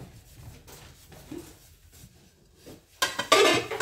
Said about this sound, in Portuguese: eu tô lavando louça, vocês vão até ignorar